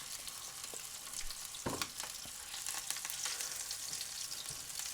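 Beyond Meat vegan bratwurst, made from pea protein, sizzles on a griddle at about 400 degrees, with a steady close crackle and a brief louder burst of spitting partway through, with no talking.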